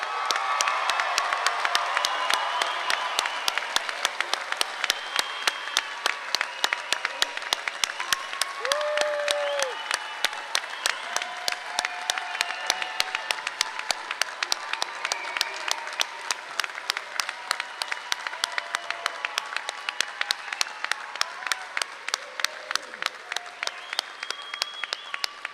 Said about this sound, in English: Now let's give a roaring round of applause for our graduates.